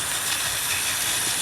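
Two model steam locomotives, a Patriot and a Royal Scot with tenders, double-head a milk train of milk wagons, giving off a steady, close hiss of steam with a faint low rumble beneath.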